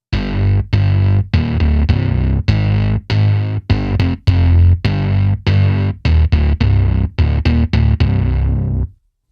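Distorted edge bass synth run through a bass amp plugin, giving a thicker, bassier tone, heard as a long sequence of punchy, rhythmic staccato notes, loud and alone.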